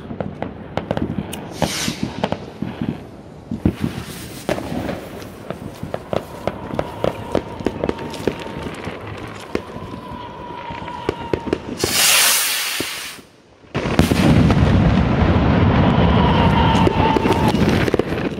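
Loud Stucki AG Mega Knall firecracker bangs and crackling bursts go off repeatedly outdoors in Switzerland, with a big sustained blast near the end and rustling movement between.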